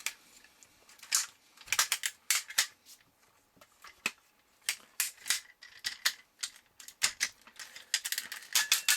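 Plastic parts of a Transformers Nucleon Quest Super Convoy toy being folded and snapped back into trailer mode, giving a run of sharp, close clicks and ratcheting joint sounds in uneven bursts, with no talking.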